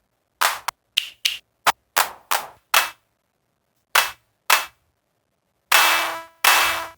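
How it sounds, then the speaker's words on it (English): Sharp, punchy claps from a Roland drum machine fire one at a time in an irregular pattern, each dry and loud with a quick decay, followed by two longer, fuller bursts at the end. "now let's get me a nice clap."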